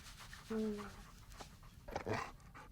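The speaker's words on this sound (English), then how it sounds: "I know he's a police dog and everything, but he's as playful as a puppy" A playful police dog pants and gives a short whimper up close, with people talking nearby.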